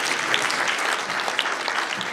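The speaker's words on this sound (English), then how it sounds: "Applause." Dense, steady audience applause at a Natuzzi design presentation event, a close, continuous crowd of clapping hands with no pauses, sounding alone without talk.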